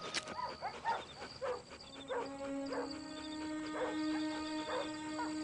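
A dog on a hunt gives a few yips and whimpers at close range over a steady tonal background hum, with no talk.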